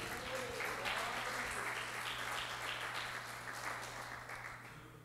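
A church congregation claps together in sustained, even applause, a dense wash of hand claps that holds steady and then slowly fades toward the end.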